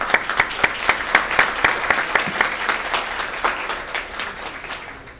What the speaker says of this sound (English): I think we should have a round of applause for Emma.